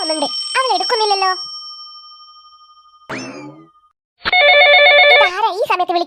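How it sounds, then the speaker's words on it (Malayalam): A cartoon telephone rings in bright electronic trills, starting loud, fading out, then a second burst of warbling rings after a short gap, with animated characters' voices mixed in. "ഫോൺ റിംഗ് ആവുന്നുണ്ട്, അവൾ എടുക്കുന്നില്ലല്ലോ."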